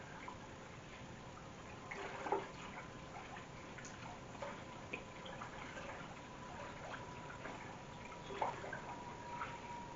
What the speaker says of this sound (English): put it in the water, and I'm going to just mix it up with my hand, get it dissolved in there a little bit.